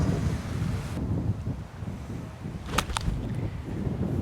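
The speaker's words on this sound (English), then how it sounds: "That wind." Wind gusting across an open golf course, buffeting the microphone with a steady low rumble, broken by a couple of brief sharp clicks near the end.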